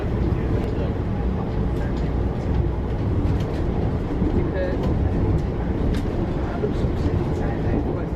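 A Class 153 diesel train runs toward Bedford, a steady low rumble and rolling drone filling the whole stretch at close range, with faint voices talking over it.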